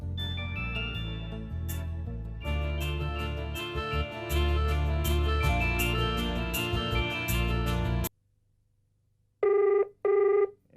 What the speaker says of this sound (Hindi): जरूर चंगू मंगू का फोन होगा, प्रेम की बहन की खबर के लिए फोन कर रहे होंगे